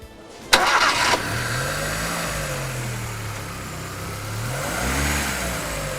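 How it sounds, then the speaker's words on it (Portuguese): A car engine cranks and catches in a short loud burst, then settles into a steady idle and revs up and down during a knock sensor voltage test in a workshop, close and continuous with no talk. "Vamos funcionar o motor e comparar a tensão gerada no sensor com a especificação do fabricante."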